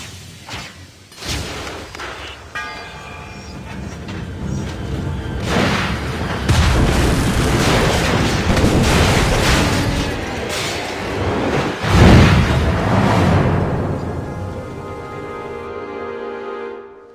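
Grenade blasts in Assassin's Creed Rogue, booming explosions layered over a dense, continuous roar of battle, with heavy bursts near six and twelve seconds before the din fades out.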